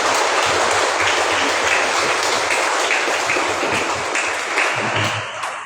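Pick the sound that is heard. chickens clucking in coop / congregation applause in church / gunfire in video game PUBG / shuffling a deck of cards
congregation applause in church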